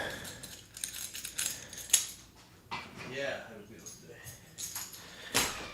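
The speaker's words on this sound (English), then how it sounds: "Let me get these keys." A bunch of keys jangles and clinks in bursts close by, metallic rattles scattered through a few seconds amid faint background noise.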